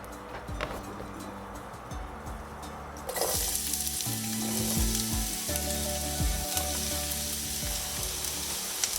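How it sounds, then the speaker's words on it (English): Onion dropped into hot oil in a pan for vegan Ecuadorian potato pancakes: quieter clatter first, then a sudden loud, sustained close sizzle with occasional stirring scrapes as it sautés. "So I'm adding here first the onion. I'm going to let this saute for a little while."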